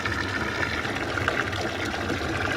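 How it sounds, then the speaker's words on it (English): Water runs steadily, a broad continuous wash or gush with no clear breaks and no talking, heard on a farm where cows drink, after storm damage as cold weather moves in. "it's pretty exciting watching the water run"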